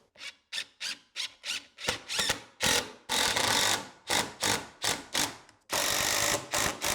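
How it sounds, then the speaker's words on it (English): Three-inch screws driven through the side of a wooden roof rafter into the top plate, a close series of whirring drill bursts that start short and rhythmic, then stretch into longer sustained runs, with no talking. "we're going to be using 3-inch screws down through the side of the rafter into the top plate"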